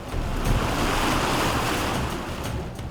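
A forest stream in Agusan del Norte that swells like a river in heavy rain rushes past as a loud, dense, continuous roar of water, close to the microphone and with no voices over it.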